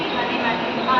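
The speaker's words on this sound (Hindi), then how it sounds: "ये पीछे ट्रेन, लोकल ट्रेन आके खड़ी है" A local train standing at a railway station rumbles with a steady broadband roar, loud and close, while someone talks over it.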